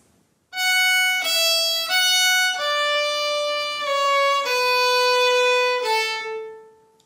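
A fiddle plays the closing phrase of the Manx tune Ta Cashen Ersooyl, a clear solo line of several sustained, connected notes that steps downward and fades out at the end.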